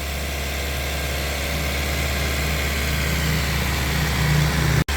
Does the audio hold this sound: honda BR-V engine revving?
yes